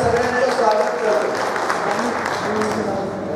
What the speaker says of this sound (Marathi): जोरदार टाळ्या वाजवून एकदा स्वागत आपल्या सगळ्यांचं स्वागत करतो.